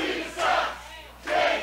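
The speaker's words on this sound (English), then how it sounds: "usually a competitor will let the crowd come up with a chant, but Bryce Donovan leading the charge" A wrestling crowd chants in two loud rhythmic bursts with a short lull between, many voices shouting together in an arena for Bryce Donovan.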